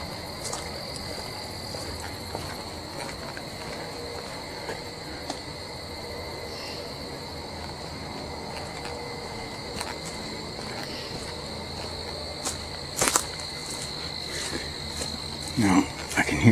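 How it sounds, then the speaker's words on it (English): Nighttime insects and frogs call by a river below tall cliffs, with a steady high insect drone and scattered faint croaks in a quiet, distant chorus. "Now, I can hear some of our nighttime bugs and frogs"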